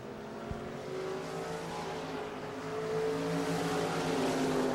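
Stock cars race around a half-mile oval, engines droning in a sustained, steady roar that swells slightly louder toward the end, heard from a distance with no talk over it.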